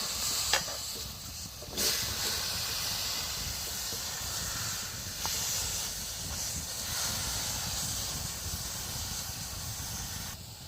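Leafy madhumalati greens cooking in a wok, with a steady loud hiss and sizzle of steam throughout and a few brief clinks of stirring, close by and without talking.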